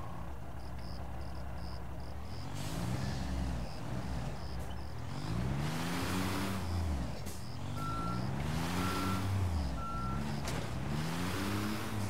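A heavy construction truck in Construction Simulator 22 drives with a low, rumbling engine that rises and falls as it manoeuvres, while a steady repeating reversing beep sounds throughout and brief higher beeps cut in near the end.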